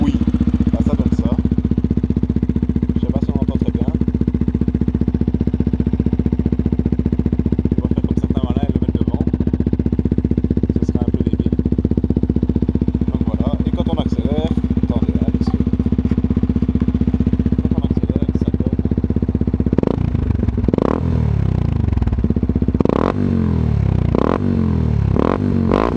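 Yamaha WR125X motorcycle engine idling steadily after starting, a close, loud low-pitched drone throughout, with some clatter and louder revving bursts near the end.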